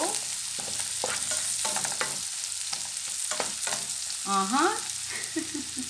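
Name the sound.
chili and whole garlic frying in a pan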